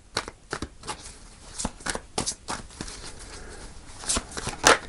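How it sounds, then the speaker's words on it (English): A deck of tarot cards is shuffled up close in a series of quick riffling bursts and soft slaps, with no voices. "I'll do a couple more shuffles"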